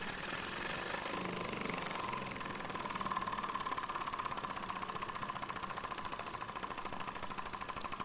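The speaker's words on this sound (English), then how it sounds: "So oscillating cylinder engine." An oscillating cylinder engine runs with a steady, rapid mechanical chatter that stays even and moderately loud from start to finish.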